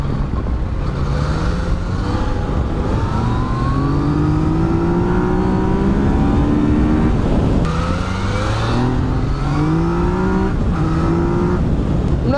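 A 2018 Yamaha Tracer 900 motorcycle engine pulls steadily and close, its pitch climbing through each gear, then dipping sharply at the shifts before rising again, loud and continuous throughout.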